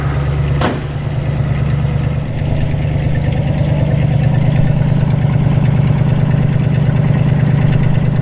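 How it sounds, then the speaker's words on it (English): A deep, rumbling V8 exhaust of a 1967 Mustang S-code GT Fastback idles steadily and loudly, with a throaty pulsing burble and a brief blip near the start. "Let's go listen to the exhaust note."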